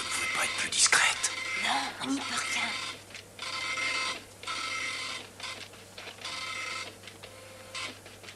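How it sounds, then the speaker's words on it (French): Office printer running off a case file, a series of mechanical whirring passes with brief pauses between them, moderately near and set against a low steady hum, with quiet talk near the start. "Je vais le sortir sur l'imprimante."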